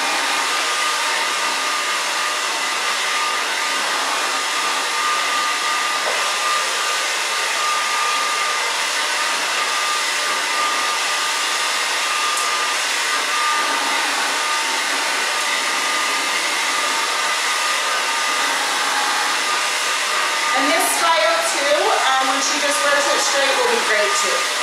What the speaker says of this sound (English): I blow dry. I love using the big round brush like this on longer hair,